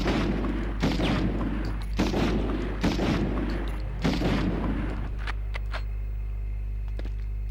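Gunfire in the PlayStation game Medal of Honor, a run of about five heavy booming shots at roughly one-second intervals over a constant low drone, followed by lighter clicks as it fades out.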